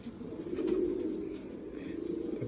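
Close cooing from Kasuri pigeons in a Punjab loft, a low throaty warble that swells once, then eases and continues softly.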